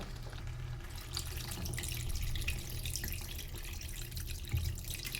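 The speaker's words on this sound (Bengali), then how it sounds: "যেহেতু চিকেন কারি হবে তাই এতে কিন্তু পরিমাণ মতো এবার জল দিয়ে দেবো।" Water pours steadily into a pot of browned chicken curry with potatoes, a continuous running splash with faint dripping, close and moderately loud with no voices.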